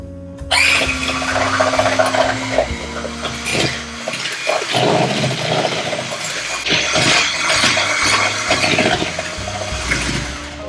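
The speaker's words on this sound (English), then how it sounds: "Mix until it's creamy." Electric hand mixer whirs loudly through soft butter for chocolate chip cookie dough, a steady buzzing drone that shifts pitch as the beaters work the bowl and briefly pauses before resuming.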